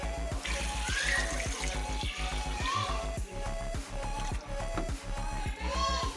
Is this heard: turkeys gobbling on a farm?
no